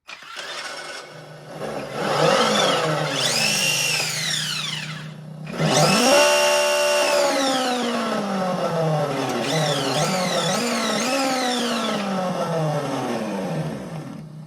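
A GT Power RC sound module plays its number 33 RS200 engine sound: an engine starts and revs up and down in repeated rising and falling sweeps, loud and close, with no talk.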